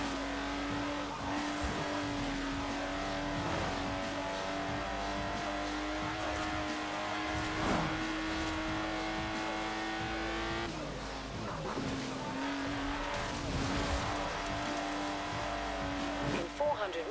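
A Lotus sports car driven in the racing game Forza Horizon 4, its engine droning steadily with pitch shifts as it accelerates and eases off, occasional tire squeal, under continuous narration.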